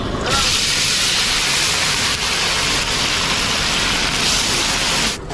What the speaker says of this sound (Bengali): এখন আমাদের মাছ ভেজে দিয়েছে